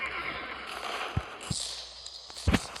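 A horse in a French video game neighs and whinnies, with a few brief hoof thumps standing out over steady game background noise.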